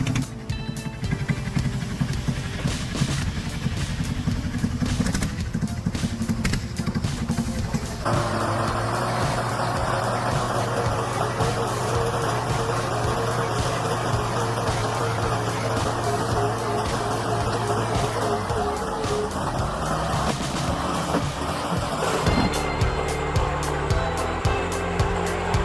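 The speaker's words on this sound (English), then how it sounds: "Watch the Timberjack 810V logging at work" Timberjack 810V forestry logging machine working in a dense forest, its engine droning steadily with mechanical clanking and hydraulic whine throughout, loud and close, with a shift in tone partway through.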